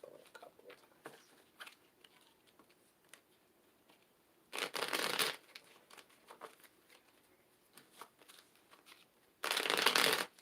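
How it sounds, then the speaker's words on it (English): Two loud bursts of tarot cards being riffle-shuffled, close up, separated by quieter soft rustling and handling of the deck. "Let me shuffle it a couple of times."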